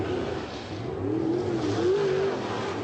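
Drag racing cars, including a Mercury Capri, rev in staging at a 1984 IHRA Springnationals meet in Bristol, Tennessee, a steady loud engine drone with rising and falling revs throughout.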